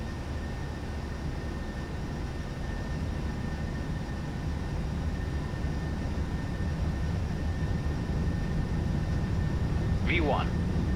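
Jet airliner engines roaring steadily during a takeoff roll on the runway at Dublin, a loud constant rumble heard from the cockpit with a brief chirp near the end.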